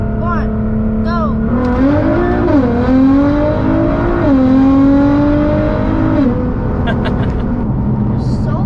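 A 700hp Nissan GT-R launches hard and accelerates, its loud engine note rising steadily through the gears with clear shift dips, heard from inside the car and filling the whole stretch.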